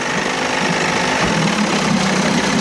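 A 30 hp Evinrude two-stroke outboard motor running in gear, a loud close steady buzzing drone with a rapid rattling pulse and no talking.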